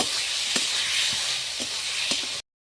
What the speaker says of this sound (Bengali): এখন এর মধ্যে দিয়ে দিলাম ডাল মাখাটা। একটু ভেজে নিব।